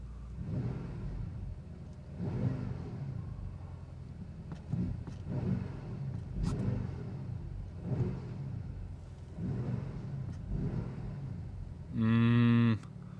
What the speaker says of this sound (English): Okay, we will be revving it.